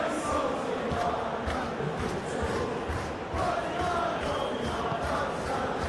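Stadium crowd in PES 2021 applauding a player being substituted off, a loud, steady roar of many voices with rhythmic surges of clapping and chanting throughout.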